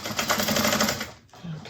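A sewing machine stitches straight across a Laura bag in a fast, even mechanical rattle for about a second, then stops briefly before a short soft sound resumes near the end.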